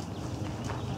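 Horse hooves clip-clop steadily across the ground during a riding lesson, a continuous close rhythm of muffled footfalls with no talk over them.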